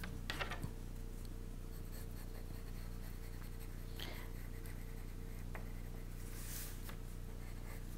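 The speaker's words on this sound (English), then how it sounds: "I'm going to start to refine my drawing" A pencil drawing on paper, faint soft scratching strokes spaced irregularly over a low steady background hum, close and quiet with no talking.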